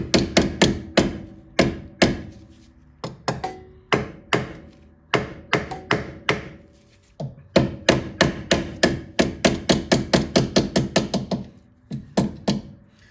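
Repeated hammer taps from underneath drive a rear floorboard peg into place on a 2009 Police Special motorcycle, sharp close knocks in quick irregular bursts with brief pauses.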